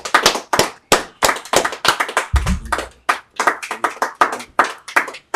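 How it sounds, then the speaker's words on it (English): Audience at an ISUPK Milwaukee gathering claps steadily in a quick, regular rhythm, crisp and close, with many sharp hand claps continuing throughout. "Clap it up"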